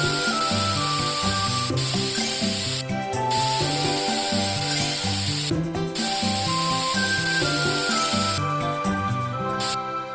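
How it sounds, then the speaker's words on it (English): Bursts of spray hiss as a toy car is sprayed clean of dirt, repeated in short pulses over a bright, tinkling music track that plays throughout. "Spray to clean off the dirt."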